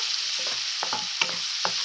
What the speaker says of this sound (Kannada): ಕ್ಯಾಪ್ಸಿಕಮ್ ಎಲ್ಲ ಚೆನ್ನಾಗಿ ಫ್ರೈ ಆಗಬೇಕು